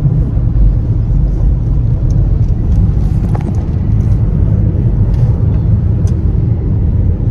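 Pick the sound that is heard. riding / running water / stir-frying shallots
riding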